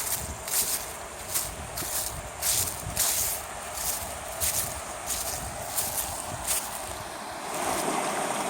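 Creek flowing beyond a chestnut tree in the Blue Ridge foothills, a steady outdoor rush of water mixed with wind buffeting the microphone in repeated gusts.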